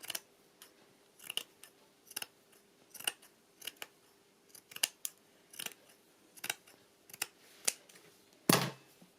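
Scissors snipping through a piece of lace doily, a quick series of crisp close cuts in an uneven rhythm, ending in one louder snap, with no talk.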